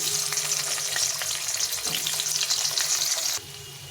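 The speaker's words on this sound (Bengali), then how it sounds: "ওই তেলে আলুগুলো ভেজে নেব প্রথমে।" Potatoes fry in hot oil with a dense, close, continuous sizzle and crackle, a stir scraping partway through, before the sound drops sharply in level near the end.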